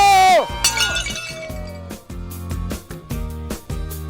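Glass smashing at a wedding, a sharp crash and scattered clinks over lively music and voices.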